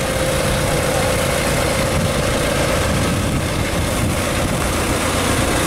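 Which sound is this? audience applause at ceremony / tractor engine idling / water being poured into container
tractor engine idling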